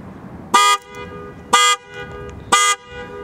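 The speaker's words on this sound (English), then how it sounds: "I never knew the alarm worked in this car, and I literally tested it, and believe it or not, it actually works." Horn chirps from the car alarm of a 2002 Buick Regal LS, three loud evenly spaced honks about a second apart, each short and bright, with quieter ambient noise between.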